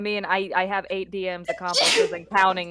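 A single sharp sneeze bursts out at a tabletop role-playing session, loud and close, set between stretches of someone talking.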